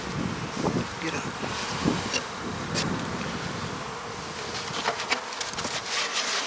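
Bees buzz around a beehive on a cold day, a dense, wavering drone with individual insects zipping close to the microphone over wind noise; no clear talk.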